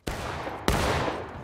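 Two sharp musket shots in a War of Rights video game skirmish, each a loud close crack followed by a lingering rolling echo, spaced about half a second apart.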